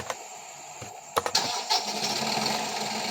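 A Massey Ferguson 4709 tractor engine in Farming Simulator 17 cranks and catches, then settles into a steady idle with a bright, whiny hum close by.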